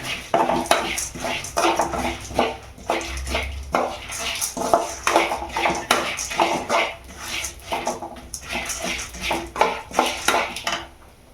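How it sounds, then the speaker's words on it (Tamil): Fenugreek and spices dry-roasted in a pan for puliyogare powder, stirred with a utensil: repeated close scraping and clinking of metal against the pan in an uneven rhythm, moderately loud. "வெந்தயம் எல்லாத்தையும் சேர்த்து நல்லா வறுத்துக்கணும்."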